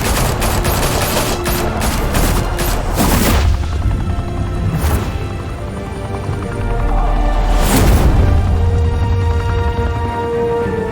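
Sustained rapid gunfire from the Batman: The Telltale Series video game, a dense loud fusillade of overlapping shots and booming bursts running throughout, swelling again near the end.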